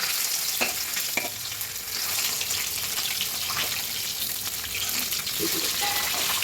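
Pieces of rohu fish fry hard in oil in a wok, a dense, continuous sizzle with occasional sharper pops and crackles, and no voices.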